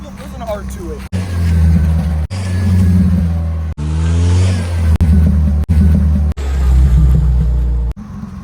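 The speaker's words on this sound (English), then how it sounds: "Usually when you take the cat off of like a normal commuter car, it sounds pretty bad, but this one is bearable." A sports car with its catalytic converter removed, likely a Nissan 350Z or 370Z, burbles and revs through a loud exhaust in several repeated bursts with brief cuts between them.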